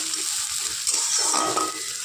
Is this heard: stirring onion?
yes